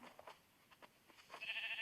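Faint, thin bleats from a gray sheep in Minecraft sound in short bursts, ending in a brighter, slightly louder call.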